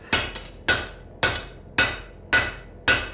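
A blacksmith's cross-peen hammer strikes hot steel in six ringing blows at an even, steady pace, each a sharp metallic clang that decays quickly, with a faint lighter tap after the first strike.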